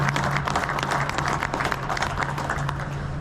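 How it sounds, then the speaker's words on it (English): An audience at a sugarbeet industry panel applauds the panelists, a continuous patter of many hands clapping at moderate loudness with no talking over it. "If we could give them a round of applause for that."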